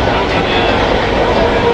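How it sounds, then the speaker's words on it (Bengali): A train pulls into Uttarpara station with a steady, loud rumbling roar of wheels and carriages, a voice faintly present underneath. "আমাদের এখন ট্রেন এসে গেল উত্তরপাড়া।"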